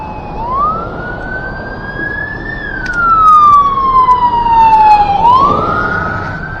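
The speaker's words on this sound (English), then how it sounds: "I have no idea where the emergency vehicle's coming from" An emergency vehicle siren wails in a slow rising and falling sweep, heard loud over road and wind noise during an e-bike ride. It swells as though drawing nearer, and no one speaks.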